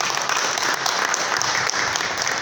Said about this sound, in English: So let's have a great applause for our ROG product manager, Michael Koo